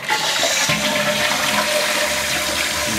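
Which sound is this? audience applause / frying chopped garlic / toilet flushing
toilet flushing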